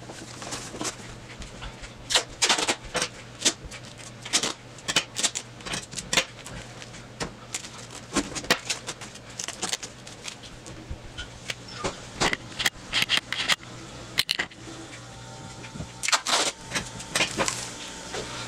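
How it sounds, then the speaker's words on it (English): Strips of adhesive tape pulled and pressed across a five-foot paper and cardboard Buster Sword, giving repeated sharp crackling rips and rustles close by, in irregular bursts throughout. "So I'm going to put four more pieces of tape all across this bad boy right here."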